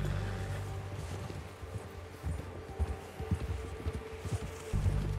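Horse hooves clip-clopping in Red Dead Redemption 2, a soft, uneven run of hoofbeats over a low ambient drone, with occasional louder thuds toward the end.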